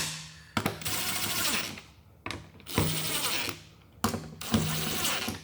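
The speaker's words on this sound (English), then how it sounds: "I have a particular ratchet I like to do with small stuff like this" A ratchet turning small 8mm fasteners on a 1995–2004 Toyota Tacoma fuel pump job, three bursts of rapid clicking pawl strokes, close and loud, separated by short pauses, no talk.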